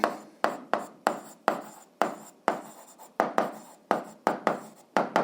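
Pen writing out an algebra check on paper, a steady run of short scratchy strokes and taps in quick succession, close and distinct with no voices.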